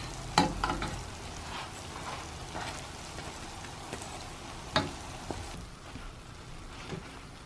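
Bofrot dough balls fry in oil with a steady bubbling sizzle, interrupted by several sharp clacks and scrapes of a utensil moving them around, close and without speech.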